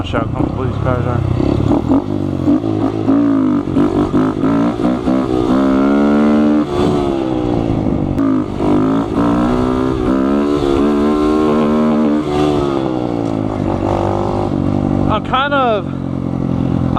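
A Honda Grom motorcycle revs hard through a wheelie, its engine pitch climbing and dropping in repeated loud, close sweeps, with a rider talking over the motor throughout.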